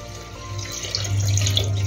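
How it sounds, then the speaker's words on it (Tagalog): Water pours from a tap into a pot of adobo chicken wings being cooked, a short, steady splashing rush close by with no talking. "At syempre, lagyan na natin ng tubig"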